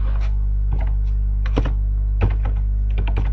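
Keys clacking on a computer keyboard as a search is typed into Google, irregular bursts of sharp close taps with short pauses between them, over a low steady hum.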